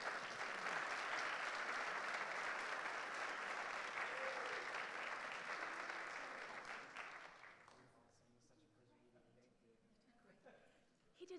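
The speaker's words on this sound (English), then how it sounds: "Please give applause to Dr. Waiwaiole" Audience applause for a keynote speaker at a conference event, a loud sustained roar of clapping for about seven seconds that then fades away to near silence, with a few scattered claps near the end.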